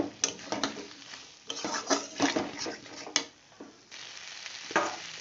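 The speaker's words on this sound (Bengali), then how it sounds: "আমি মশলাটাকে দিয়ে ভালো করে কষিয়ে নেব আমি কিছু মটরশুঁটি নিয়েছি ওর মধ্যে দিয়ে দিলাম আবারও ভালো করে কষাবো" Spice paste with peas frying in a pan gives a steady sizzle, while a spoon scrapes and stirs in irregular bursts, close and moderately loud.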